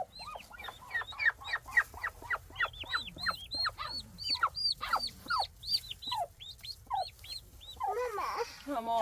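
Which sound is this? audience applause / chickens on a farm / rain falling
chickens on a farm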